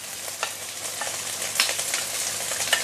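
French beans stir-fry with ginger in a hot pan, giving a steady close sizzle broken by several sharp scraping stirs of the spatula, with no voices.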